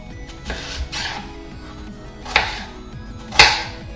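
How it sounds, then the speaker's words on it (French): A knife slicing peeled onions on a cutting board, a handful of separate chopping strokes with a couple of sharper, louder cuts near the end, close up with no talking. "Donc je les ai pelés et maintenant je vais les émincer"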